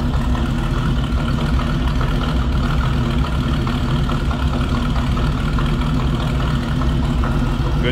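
The engine of a 1936 Chevrolet Master Deluxe street rod idles close by with a steady, loud, low rumble and a slightly uneven lope that holds throughout.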